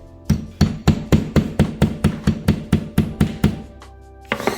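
Knuckles or a tool knock on a kitchen wall while searching for a stud, a rapid, even series of about fourteen loud, close thuds, then a pause and one final knock.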